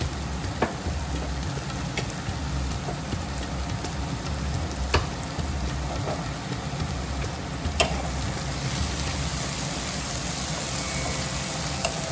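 Poha with potatoes fries in a pan with a steady close sizzle throughout, while a utensil stirs it with occasional sharp scrapes and taps against the metal; no one speaks.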